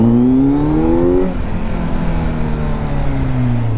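Kawasaki Z motorcycle with an Arrow Pro Race titanium exhaust revving hard, loud and close, the engine pitch climbing sharply then dropping and settling into a steady throaty roar.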